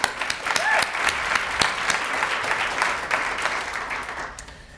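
An awards-ceremony audience claps together in a steady burst of applause that fades out after a few seconds.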